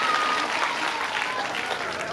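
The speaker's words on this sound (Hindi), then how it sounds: "ताली बजाइए।" Audience applause rings out at a Shrimad Bhagavat Katha gathering, steady clapping from a crowd with a voice briefly audible over it.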